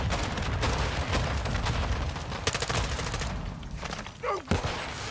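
Gunfire in Modern Warfare 2 DMZ, a dense run of sharp shots and impacts crowding close together throughout, with a few louder thuds toward the end.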